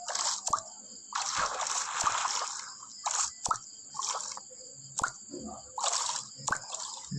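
Underwater ambience in the Minecraft video game: repeated bubbly drips and squishy water bursts come in short clusters, fairly close and alone, with no talk over them.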